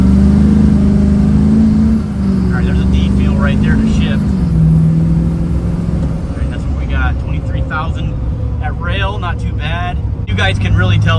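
A heavy diesel truck engine drones and rises in pitch as the truck accelerates, loud and close, with a voice talking over it.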